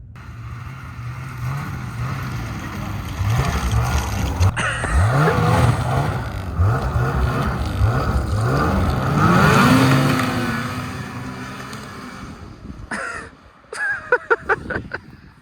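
A repaired snowmobile engine running during a Buffalo blizzard, its pitch rising and falling as it revs and moves, loud and fairly close for most of the stretch before quieting, with a few sharp bursts near the end.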